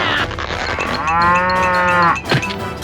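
An animated cartoon cow lets out one long, loud, drawn-out moo that swells and then falls away, followed by a brief rougher grunt, close up and on its own.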